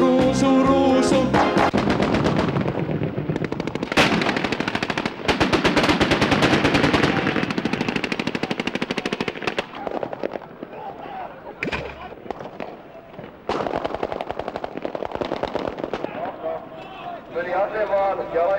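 Machine gun fire rattles through a Finnish reserve officer course field exercise: long, loud bursts of rapid shots with short pauses between them, mixed with heavier single bangs and voices underneath.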